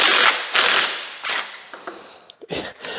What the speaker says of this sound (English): Let's see if this DeWalt impact will do her.